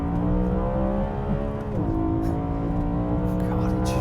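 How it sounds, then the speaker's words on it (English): A modified BMW E92 M3 Competition engine, with its redline raised to 8,600 RPM, revs hard and holds a high, sustained roar. It dips briefly, then climbs steadily again, loud and close. "one thing you really notice when you rev it out"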